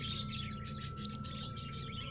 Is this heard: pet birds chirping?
yes